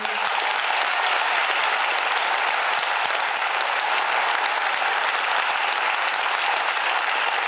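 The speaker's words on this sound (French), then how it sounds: "vous allez applaudir les professionnels qui sont derrière" An audience applauds healthcare professionals with a steady, thick wash of clapping that holds at full strength throughout, close and continuous with no pauses.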